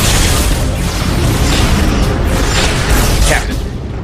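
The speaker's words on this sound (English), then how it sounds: "Open fire! Photonic torpedoes and phase cannons." Weapons fire in a sci-fi movie space battle, photonic torpedoes and phase cannons launched against Romulan ships, a dense barrage of loud booming blasts and bursts that fill the whole stretch with no talk.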